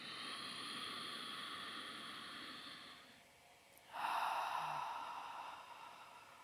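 Slow, deep breath drawn in during a calm guided relaxation session, a long soft airy inhale that swells in the middle, with steady hiss and quiet background throughout.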